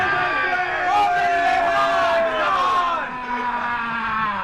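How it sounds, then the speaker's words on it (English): A packed stadium crowd roars at a 1992 football grand final between HCAFC and Wanneroo, a loud sustained cheer beneath a raised voice talking over it. "the crowd are going just absolutely stupid down below"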